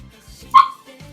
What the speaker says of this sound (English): There's his dog.